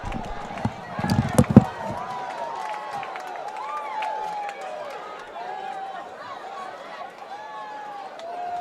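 A college football crowd at Shasta College roars after a touchdown play, with a burst of loud cheering and clapping early, then sustained crowd noise under a commentator's voice.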